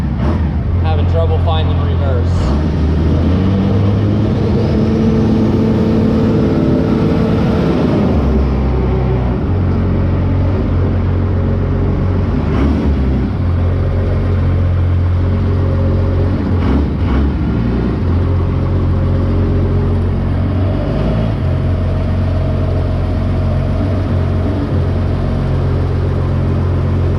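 A monster truck's engine rumbling and revving close by, a loud heavy low drone with surges in pitch, steady throughout while people talk over it.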